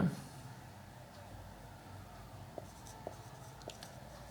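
A pen writing an exam answer on paper, soft scratchy strokes with a few light taps, quiet and close, with no speech over it.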